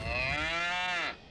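A cartoon cow gives a single drawn-out moo, about a second long, clear and alone without speech.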